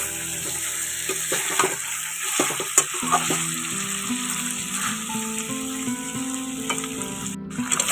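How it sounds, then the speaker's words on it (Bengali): Spice masala sizzling and frying in a pan while being stirred, a steady crackling hiss with scraping spoon strokes and a faint tonal hum underneath, close and alone. "মোটামুটি একটু ভালোই কষে গেছে আর একটু কষাবো"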